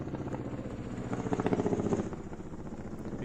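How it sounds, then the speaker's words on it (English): A medevac helicopter passes over a cricket ground near a hospital, its steady rotor chop and engine drone rising a little in the middle and then settling, moderately distant. "That's a medical vac chopper that's going over the ground."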